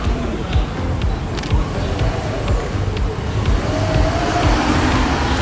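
A rally car setting off at the start of a discovery rally in the Coteaux Varois, Provence, with a steady engine rumble under crowd chatter and an announcer's voice.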